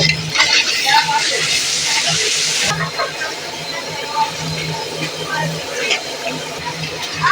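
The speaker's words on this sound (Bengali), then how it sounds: "এবারে এই রসুনটা ভেজে নেব" Garlic frying in a pan of oil after onions, a busy hissing sizzle with scraping stirs and clinks of a utensil against the pan, fairly close and loud throughout.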